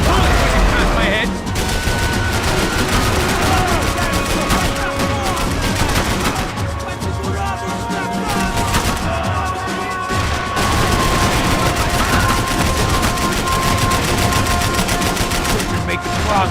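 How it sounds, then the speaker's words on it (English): Dense bursts of gunfire crackle almost nonstop in a Max Payne 3 firefight, loud rapid volleys with brief pauses as bullets whiz past. "Bullets whizzing past my head!"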